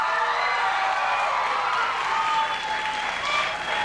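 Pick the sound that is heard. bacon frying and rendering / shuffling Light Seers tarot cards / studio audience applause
studio audience applause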